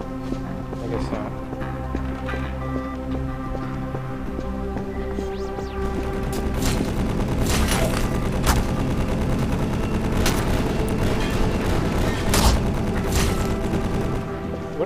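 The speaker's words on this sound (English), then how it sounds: "What is that constant shooting?" Constant turret gunfire in the video game EYE Divine Cybermancy, rapid repeated shots rattling over a droning game backdrop, with sharper louder bursts in the second half.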